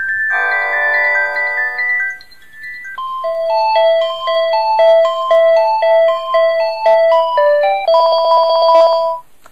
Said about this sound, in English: Ringtones, yeah. That's what I've got at the moment.